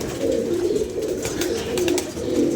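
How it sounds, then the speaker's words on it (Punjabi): A flock of pigeons keeps up continuous low cooing, overlapping throaty calls heard close and fairly loud, with faint scratchy clicks here and there. "ਇਹ ਕਬੂਤਰ ਡੱਕ ਉੱਤੋਂ ਦੀ"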